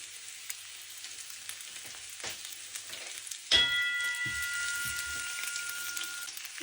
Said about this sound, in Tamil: இதில் ஒரு பெரிய வெங்காயம் அதை போட்டு நல்லா வதக்குவோம்.